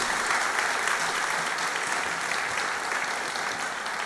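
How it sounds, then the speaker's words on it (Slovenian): An audience at a lifelong learning week opening in Kranj applauds a pensioners' mixed choir, giving sustained, dense, even clapping for the whole stretch, with no voices over it. "Dajmo jim še en aplavz, ker nas še vedno slišijo."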